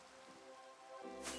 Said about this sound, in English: It's raining. It's glorious.